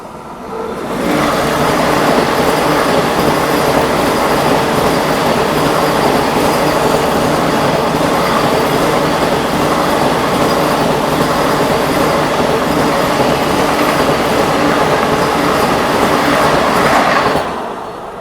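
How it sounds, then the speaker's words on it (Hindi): Anand Vihar–Ayodhya Cantt Vande Bharat Express rushing past at close range, a loud, steady roar of rolling wheels and clattering carriages that lasts nearly the whole time and then falls away abruptly at the end. "आनंद विहार अयोध्या कैंट वंदे भारत एक्सप्रेस आती हुई"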